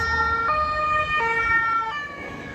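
An ambulance siren wails close by as it passes, in a two-tone pattern, shifting pitch every second or so against a low rumble of traffic.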